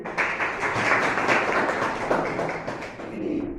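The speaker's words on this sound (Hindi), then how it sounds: "नितेश पांडे। के लिए ताली बजाइए।" Audience applause for an attendee at a motivational lecture on the subconscious mind, a dense, steady wash of many hands clapping that holds for the whole few seconds, fairly close, with a voice faintly underneath.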